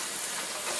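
Carrots sauté in a hot pan for pancit bihon, a steady, close, broadband sizzle with no pauses.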